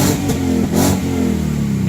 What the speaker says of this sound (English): have a listen to this thing just before I turn off